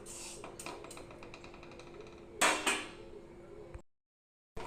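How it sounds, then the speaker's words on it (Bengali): Rice dry-roasting in a home kadai, with a spatula scraping and clinking against the metal in steady strokes and a louder clatter near the end before a brief silence. "এখন আমি চালগুলোকে ভালো করে ভেজে নেব"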